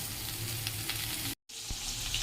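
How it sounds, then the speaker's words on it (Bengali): Pointed gourd (potol) crackles and sizzles in hot oil, a close, steady frying hiss briefly cut by a moment of silence before it resumes; no speech. "আর এই যে পটলটা ভাজবে এবার"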